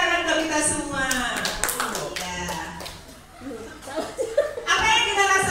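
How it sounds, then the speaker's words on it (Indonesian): Audience clapping at a school gathering on positive classroom culture, a steady patter of hands under and between spoken voices, fairly loud and close throughout. "Tepuk tangan untuk kita semua"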